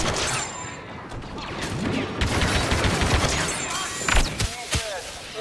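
Rapid blaster gunfire in Star Wars Battlefront 2 forms a loud, dense fusillade of overlapping shots, with heavier thumps near the end.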